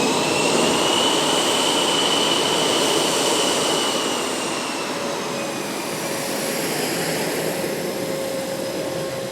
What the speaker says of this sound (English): There goes an F-model Super Hornet of VFA 122